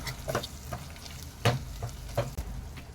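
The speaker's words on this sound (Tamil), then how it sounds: "தக்காளியை நல்லா சாஃப்டாக அளவுக்கு வதக்கி விட்டுடலாம்" Chopped tomatoes saute in oil over a medium flame for vatha kuzhambu, a soft continuous sizzle broken by several distinct spoon clinks and scrapes against the pan as they are stirred, close and moderately loud.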